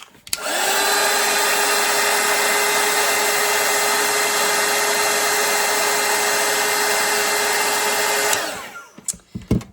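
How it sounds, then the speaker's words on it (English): A small hair dryer drying watercolor paint whirs steadily at close range for about eight seconds, then switches off, leaving a few faint clicks and handling sounds. "And with my little dryer, I'm gonna dry this."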